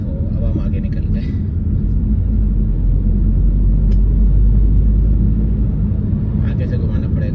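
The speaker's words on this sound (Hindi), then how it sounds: "आगे से घुमाना पड़ेगा गाड़ी अब।" A car driving on a road in Norway, a steady low engine and tyre rumble heard from inside the car, continuous and fairly loud, with people talking over it.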